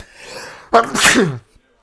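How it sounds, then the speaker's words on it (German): A single loud, close sneeze: a short inhaled build-up, then a sharp burst that trails off into quiet. "Und da musste ich niesen, Entschuldigung."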